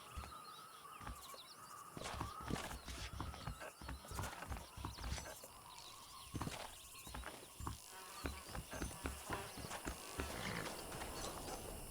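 Horses in a video game, Red Dead Redemption 2, clip-clopping along with occasional snorts, steady hoof beats over an outdoor ambience with faint birdsong.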